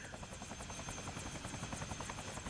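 A helicopter in the video game Dead Rising whirs loudly and steadily up close, its rotor beating in a rapid, even chop with no talk over it.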